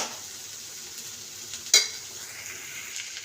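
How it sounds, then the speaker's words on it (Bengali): A spoon stirs raw tomato chochri with coriander leaves in a hot pan, a soft continuous sizzle and gentle scraping broken by one sharp metallic clink midway, close and quiet. "এটাকে ভালো করে মিলিয়ে নেব।"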